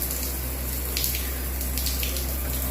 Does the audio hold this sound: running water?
yes